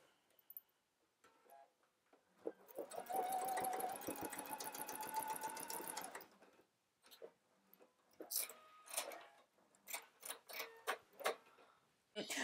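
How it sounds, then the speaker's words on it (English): A sewing machine bastes the side seam of jumpsuit pants in a single run of a few seconds. Scattered taps and handling sounds come after it. "And then I will baste the side seam in place."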